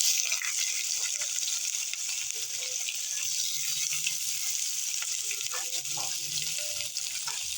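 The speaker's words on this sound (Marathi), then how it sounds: "पहिला जरा तांबूस कलर येईपर्यंत कांद्याला परतून घेऊया." Chopped onion sizzles steadily in oil in a pan, a continuous loud frying hiss with occasional stirring scrapes, cooking as the base for a Belgaum-style dry crab masala.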